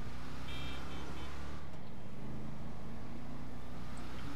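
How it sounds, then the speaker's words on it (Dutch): Car engine in GTA 5 drones loud and steady as the car picks up speed, with a brief shift in tone partway through. The sound is continuous and close, with no talking. "deze auto trekt snel op"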